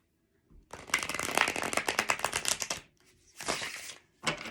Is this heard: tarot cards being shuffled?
yes